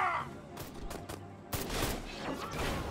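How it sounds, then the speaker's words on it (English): Video game gunfire from Destroy All Humans! (2020): a few sharp separate shots, then a denser rattling volley that keeps going, loud and close. "Stop shooting me."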